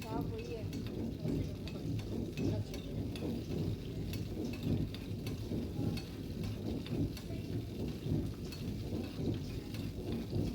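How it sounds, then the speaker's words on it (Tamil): Cashew nuts frying in a pan for semiya payasam, a steady close sizzle with soft stirring scrapes running throughout, no voices present. "நல்லா முந்திரி வந்து சிகப்பாக நல்லா வெந்துருச்சுங்க"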